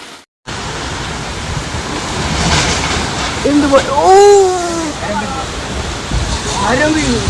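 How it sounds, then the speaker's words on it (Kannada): Heavy rain pours steadily during a windy monsoon storm in a village, a broad continuous hiss that follows a brief silence at the start, while a person talks over it for most of the stretch. "ಇಷ್ಟು ಕೆಲಸ ಆಗುವಾಗ ಜೋರು ಮಳೆ ಬಂತು"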